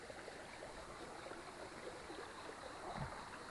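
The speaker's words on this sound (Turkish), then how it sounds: "Dere akıyor." A forest stream in Ayazmapınarı nature park flowing with a soft, continuous burble and trickle, faint and steady throughout, with no voices.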